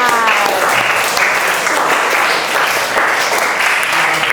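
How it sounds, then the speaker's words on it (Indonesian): A classroom of students claps together for classmates, a loud, dense burst of applause that holds steady for several seconds without fading. "beri tepuk tangan"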